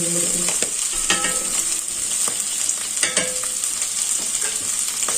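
Sausages browning in a pan for a sausage and lentil dish, a continuous hiss of frying punctuated by sharp spatula scrapes and taps at irregular intervals.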